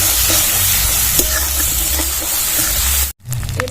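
Spice paste with ginger, cumin powder and a splash of water being sautéed in a pan for vegetable khichdi, a loud steady sizzle with stirring scrapes that cuts off abruptly near the end.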